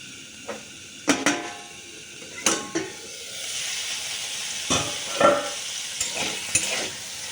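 Pointed gourd (potol) frying in a pan, a soft continuous sizzle broken by repeated spatula scrapes and clinks against the pan, no voices.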